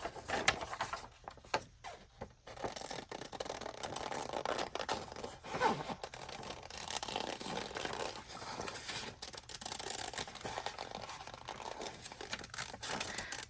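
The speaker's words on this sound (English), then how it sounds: "So let me cut this picture out." Scissors snip through paper as a picture is cut out for a junk journal cover, giving soft, uneven cuts and paper rustles that go on steadily at low level, with no speech.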